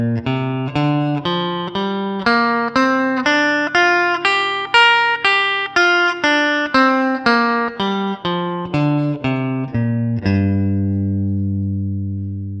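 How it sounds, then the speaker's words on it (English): Electric guitar plays a single-note scale ascending and then descending, each note plucked evenly at a steady pace, with the top note struck once and the last low note left ringing out alone, clear and close. "playing the scale up and then back down again,"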